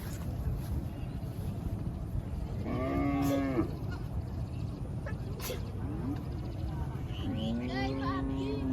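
Cattle at a livestock market during the Eid cattle fair, two drawn-out moos some seconds apart over a constant rumble of crowd and wind noise, with voices in the background.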